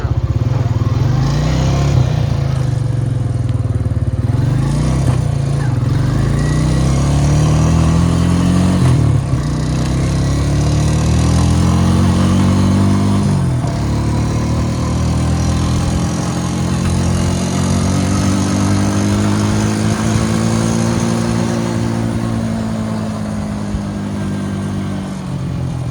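A Honda Rancher 350 ATV engine runs continuously during a ride, a steady mid-pitched drone that rises and falls slightly with throttle changes, loud and close throughout.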